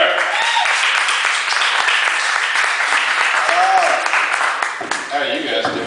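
A comedy-club crowd at an open stage night in Tulsa claps for a comedian as he takes the stage. The applause is loud and sustained, with scattered voices mixed in, and it thins out toward the end.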